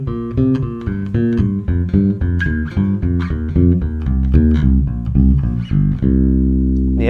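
Bass guitar plucks a minor pentatonic line slowly, each note distinct in a steady stepwise rhythm, ending on a long held low note.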